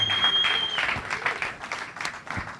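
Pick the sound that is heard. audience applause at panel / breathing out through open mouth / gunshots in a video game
audience applause at panel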